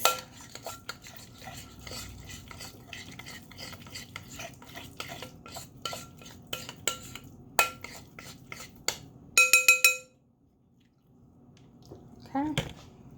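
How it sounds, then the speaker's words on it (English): A spoon stirring a mixture with salt in a bowl, giving rapid irregular scrapes and clinks, then a brief louder clatter before quiet and a final small knock. "we'll go ahead and stir this up. Mix and mix and mix."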